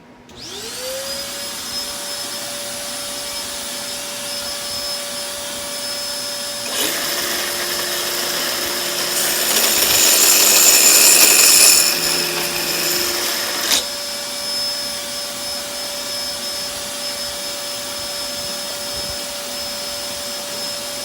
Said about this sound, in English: I'm going to turn that vacuum on.